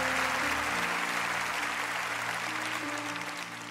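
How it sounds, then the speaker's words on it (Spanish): Loud, sustained applause from a church congregation during a sermon, a dense wash of clapping that holds steady and eases slightly toward the end, with no talking over it. "dale un aplauso al Señor en esto."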